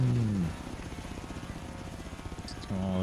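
A helicopter in the racing game Forza Horizon 3, set in Australia, beats steadily with a fast rotor thump under a buzzing engine, loud and close through the middle of the clip, with other engine tones before and after.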